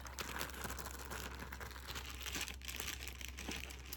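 A plastic bag holding wedding keepsakes crinkles and rustles softly and steadily at close range, with no talk, over a low background hum.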